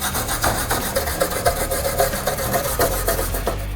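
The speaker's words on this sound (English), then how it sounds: "After I get done wire brushing my piece" A wire brush scrubs rhythmically across an aluminum piece being cleaned before welding, each stroke a loud, close, raspy rub repeating quickly and steadily.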